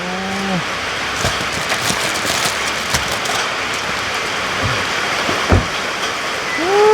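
Rain falls steadily outdoors in a rural setting, a continuous hiss with scattered louder drips and taps. A few brief tonal calls or voices sit faintly at the start and end.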